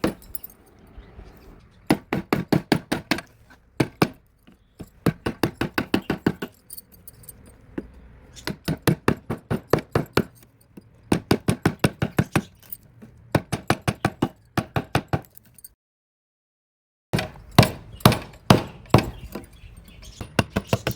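A chisel chips into dry bamboo, being hollowed out as a nest house for birds: rapid runs of sharp, close taps in repeated bursts, separated by short pauses and one longer silence. No one speaks.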